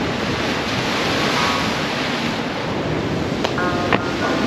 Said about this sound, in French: Et t'as des putains de vagues, t'as la Méditerranée.